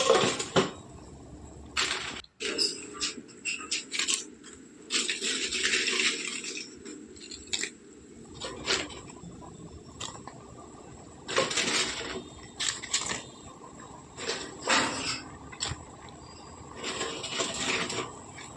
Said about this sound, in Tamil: அந்த அப்பளத்தை கூட வந்து சேர்த்து கிளறி விட்டுக்கலாம்.